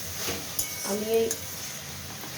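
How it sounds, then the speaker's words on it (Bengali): Chopped bottle gourd is stirred in a pan, with soft scraping and a light sizzle. A short tonal sound breaks in midway, and the whole scene stays fairly quiet. "ইয়েটা লাউটা আমি নাড়ছি।"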